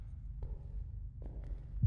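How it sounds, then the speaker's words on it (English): A slow, muffled heartbeat thuds low and steady in the Deppart Prototype horror game, a faint throbbing pulse under a quiet hum, with a couple of soft scrapes over it. "Yung heartbeat ko."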